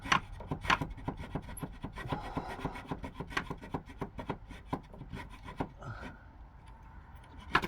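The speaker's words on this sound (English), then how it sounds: "It's awkward sawing angle." Hand saw cutting through a soft wooden roof batten on a tiled roof, short rhythmic rasping strokes close by, fairly quiet, with the strokes tapering off near the end.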